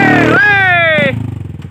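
Enduro motorcycle engine revving loudly up close, a sustained rising whine that drops off into a rapid rough idle pulse.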